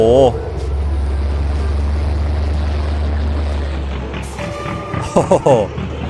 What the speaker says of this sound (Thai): เสียงท่อเป็นไงเสียงท่อ โอ้โห